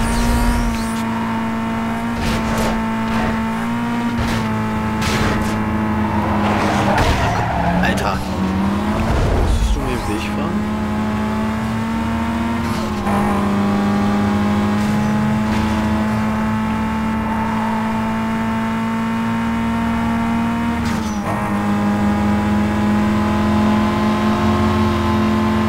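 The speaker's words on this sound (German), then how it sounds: "Dein Motor dreht aber komisch hoch." In Need for Speed Most Wanted, a car engine revs oddly high at a steady, loud whine throughout, with a brief squeal or scrape midway, while a person talks over it.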